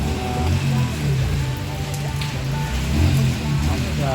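Steady rain falls outdoors on surfaces, a continuous even hiss with faint passing vehicle sounds and a low background hum, and no clear voices.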